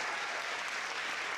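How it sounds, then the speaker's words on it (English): Audience applause rises at a high school graduation ceremony, a soft, steady wash of clapping from a crowd heard at a distance for a brief moment. "You can clap for that one too."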